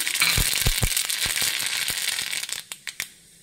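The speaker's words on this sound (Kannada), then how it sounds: "ಫ್ರೆಂಡ್ಸ್, ಸಾಸಿವೆ ಚಿಟಪಟ." Mustard seeds crackle in a tablespoon of hot oil for a moong dal tempering, a rapid, close patter of sharp pops over a steady sizzle that thins out into a few separate snaps near the end.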